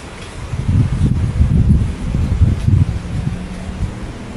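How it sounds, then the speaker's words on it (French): Wind buffets the microphone in loud, low gusts that rise and fall over a few seconds, with a faint rustle underneath and no talking. "Il y a du vent, hein."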